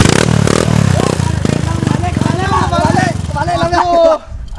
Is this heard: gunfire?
no